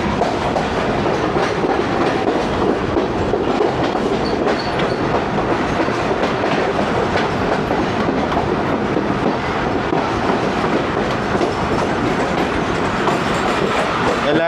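Tezgam express train pulling into Lala Musa junction, heard from inside an old AC sleeper coach: a loud, continuous rumble with rhythmic clickety-clack of wheels over rail joints, steady throughout.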